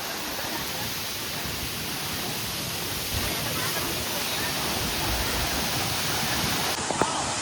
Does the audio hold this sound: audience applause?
no